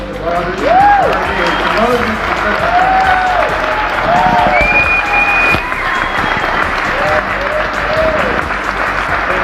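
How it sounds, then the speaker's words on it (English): Loud, sustained crowd applause for Bobi Wine at a live event in America, mixed with cheers and whoops over continuous clapping. "Let's give a great round of applause to Bobi"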